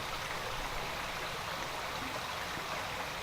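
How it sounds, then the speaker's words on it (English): A waterfall and creek flow behind a deck in a steady, even wash of rushing water, constant and moderately close with no voices. "You can hear the waterfall and the creek behind me."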